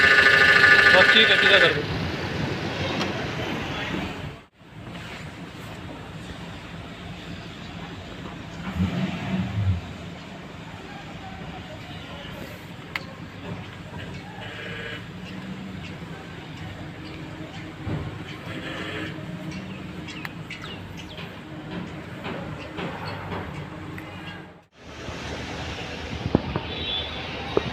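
A Toyota Land Cruiser's faulty power steering pump makes noise while the steering is turned, heard as a steady low mechanical hum and engine drone with brief dips, as a man gives short instructions.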